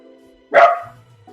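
A puppy lets out a single sharp, loud bark up close, with quiet room tone before and after.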